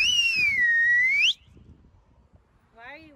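A clear, loud whistled tune with a wavering pitch lasts just over a second, then stops; a short rising whistle follows near the end, with low murmuring underneath.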